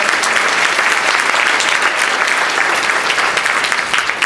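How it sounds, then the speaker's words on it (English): Dense, steady applause from the audience at the Schenectady Business and Professional Women's Woman of the Year ceremony and annual fashion show, a loud, even wash of clapping filling the whole stretch with no voices on top. "Give yourself a round of applause."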